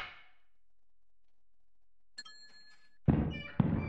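In Lethal Company a dropped meds item lands with a hard metallic thunk and a clang. It is followed by a second sharp knock, loud and close after a near-silent stretch.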